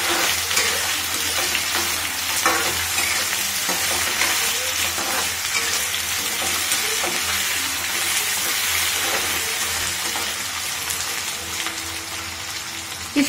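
Potatoes shallow-fry in a pan for a Shahi Bhindi dish, giving a loud, continuous close sizzle and crackle with small stirring scrapes and no voice over it.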